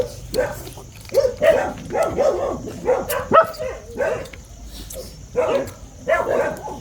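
A dog barking repeatedly in an irregular rhythm, close and fairly loud, with short whimpering yips between barks.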